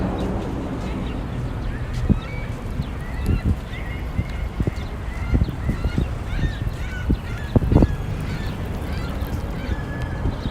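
A seagull calls repeatedly in Millennium Park in downtown Chicago. Short, honking squawks carry over a busy city background of traffic rumble, footsteps and scattered voices.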